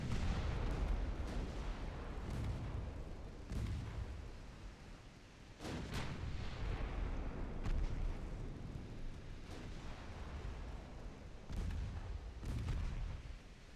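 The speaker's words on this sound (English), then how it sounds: "Quit firing the main guns, that kind of stuff." Warship main guns fire in the naval game Ultimate Admiral Dreadnoughts. Heavy booming shots recur every second or two over a dense, continuous rumble of battle.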